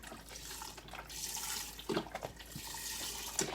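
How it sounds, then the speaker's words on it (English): Beef broth pours from a 32-ounce container into an Instant Pot in a soft, steady liquid stream with a few splashy gurgles, quiet and close. "We're going to put our beef broth in, 32 ounces. So we're just going to pour that in."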